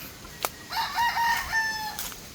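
A young rooster (stag) crows once in a raspy, rising-and-falling call lasting over a second, with a short knock just before and another sound just after, against quiet farm background.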